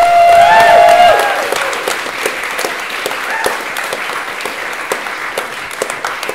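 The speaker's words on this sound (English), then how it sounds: "can I have a round of applause please for your second show" Applause from a comedy-science show audience for the next act, loud and full at the start with a whoop or cheer, then thinning into scattered claps that fade gradually.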